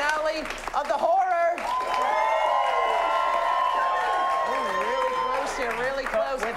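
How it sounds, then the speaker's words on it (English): An improv comedy audience at a theater shows applauds as a vote for a horror finale. The steady, loud clapping holds for several seconds with scattered cheers, and a voice speaks briefly over it at the start and end. "get a nice round of clapping going for everyone. Clap loudest for the film you want to see go on"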